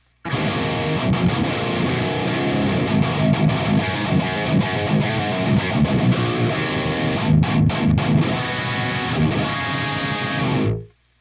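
Heavily distorted electric guitar through the Audio Assault AHM 5050 amp simulator with its default cabinet plays a chugging metal riff, loud and dense throughout, then cuts off abruptly near the end.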